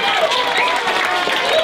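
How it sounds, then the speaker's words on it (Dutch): A crowd applauds at a carnival youth prince and princess proclamation in Almelo, a loud, dense patter of clapping with faint voices and cheering mixed through the brief burst. "Jongens, geef ze een groot applaus."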